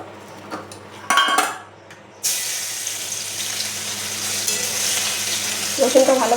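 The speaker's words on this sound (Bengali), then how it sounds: "রসুনটা ভালো ভালো হালকা লাল করে ভেজে নিতে হবে, যাতে রসুনের সেন্টটা বেরিয়ে যায়।" Crushed garlic fried in hot oil: a few metal clinks and clatters, then a sudden loud, close sizzle that holds as a steady hiss, ending with utensil scraping and stirring clatter.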